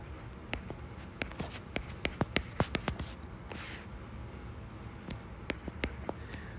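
A pen or marker scratches out the quadratic formula in short, quick strokes, faint and close, with small pauses between bursts of writing.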